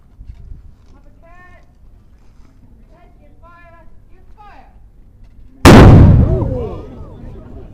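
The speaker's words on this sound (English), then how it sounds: "All the cannons in the 17th century were given names, and that's Wee Meg." A 17th-century matchlock cannon fires one sudden, very loud blast during a castle performance at Edinburgh Castle, and the boom rolls off into a long fading rumble after quieter crowd murmur.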